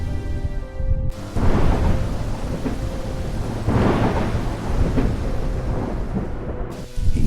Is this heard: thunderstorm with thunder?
yes